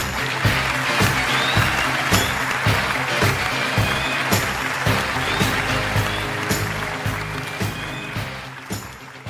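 Applause from a TV singing-competition audience after a cross duel on O Ses Türkiye, dense clapping and crowd noise over music, fading slightly toward the end.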